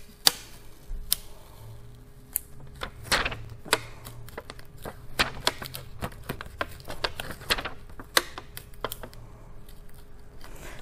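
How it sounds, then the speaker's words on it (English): Application tape peeled off pressure-sensitive glitter heat transfer vinyl gives a close series of sharp crackling ticks and small tearing snaps at an irregular rhythm, with no one speaking. "we're just going to remove the application tape"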